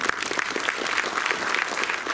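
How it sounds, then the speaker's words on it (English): Brief burst of audience applause at a science film festival inauguration in Goa, close, rapid clapping from a crowd sustained evenly for about two seconds. "Let's welcome the round of applause."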